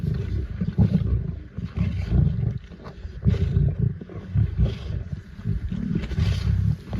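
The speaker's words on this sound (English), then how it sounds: "each lion approaches carefully, announcing its presence with low, familiar growls" Lions of an African pride growl low and rumbling as they approach, a continuous deep, close chorus of overlapping growls and roars with no speech.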